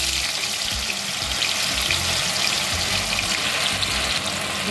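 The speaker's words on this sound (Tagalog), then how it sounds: "Pag mainit na po ang mantika, lagay na po natin ang ating tokwa." Extra-firm tofu halves frying in hot oil, a steady, dense crackling sizzle that holds evenly throughout with no talk over it.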